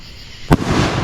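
A single loud firework bang goes off at a Fourth of July celebration in Texas, a sharp burst followed by a lingering crackling hiss and outdoor rumble.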